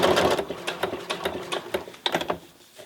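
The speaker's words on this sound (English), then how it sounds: "So that's how you top stitch." A regular home sewing machine top stitching faux leather, its needle thumping in quick bursts with short pauses between runs, close and clear with no talk.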